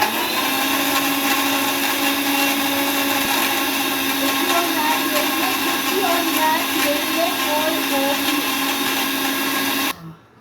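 A kitchen mixer grinder runs continuously while blending cold coffee, a steady loud motor whine with a churning, whirring hum that holds even throughout and cuts off abruptly near the end.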